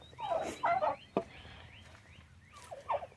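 Penned turkeys gobble in a few close, warbling bursts separated by short pauses, with quieter gobbles trailing near the end.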